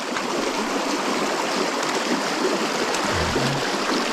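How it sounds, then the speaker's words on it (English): Fast-flowing water in Fox Creek rushes in a steady, dense broadband roar, close and constant throughout with no voices. "The water is very fast flowing."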